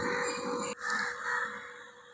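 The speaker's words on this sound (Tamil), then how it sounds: "சில சமயங்களில் நான்கு புறமும் காக்கைகள் அமர்ந்து கொண்டு நம்மை பதிவு எடுக்க விடாதவாறு அது தொந்தரவு செய்வது போல் நமக்கு இருக்கும்" Crows cawing close by outdoors, a steady run of harsh, loud calls that overlap one another across the whole stretch with no talking.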